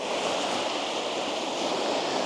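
Waves washing over rocks on the Connecticut coast, a continuous broad rushing surf with no distinct breaks, steady and moderately loud without any talk.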